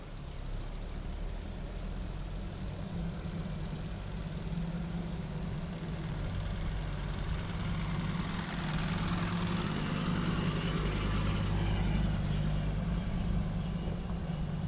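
A rusty 1980 Mercedes W123 300D diesel engine runs steadily with a deep low rumble, rising slightly as the car sets off from a warehouse, loud and continuous with no talk.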